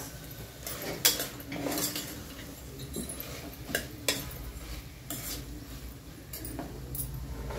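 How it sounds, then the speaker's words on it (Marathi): A spoon stirs sprouted chickpeas into a Konkani-style potato and bean vegetable curry in a pan, with irregular scraping and metallic clinks over a faint background sizzle. "हे पण असे चांगले मिसळून घ्यायचे"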